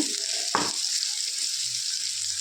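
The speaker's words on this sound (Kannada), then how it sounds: "ಶುಂಠಿ ಬೆಳ್ಳುಳ್ಳಿದು ಹಸಿ ವಾಸನೆ ಹೋಗೋವರೆಗೂ ಚೆನ್ನಾಗಿ ಫ್ರೈ ಮಾಡಿಕೊಡೋಣ" Ginger and garlic frying in a pan for an egg curry, a steady bright sizzle throughout with a brief stirring scrape near the start, close and fairly loud.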